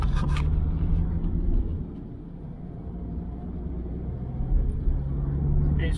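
A VW Caddy van drives along, with a steady low engine and road rumble heard from inside the cabin, easing slightly midway before building again.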